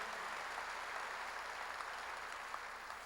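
A church congregation applauding together in a dense, steady wash of clapping that holds evenly throughout, heard from a slight distance with no voices over it.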